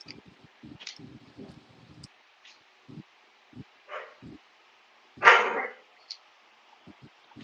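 Dogs bark indoors somewhere behind, a scattering of sharp, separate barks and yips of varying loudness, with one louder burst near the end, alongside soft rustling and faint household noise.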